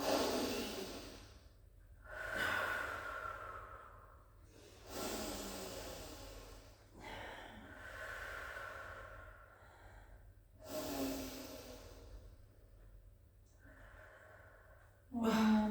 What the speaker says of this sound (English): taking some nice deep breaths in and out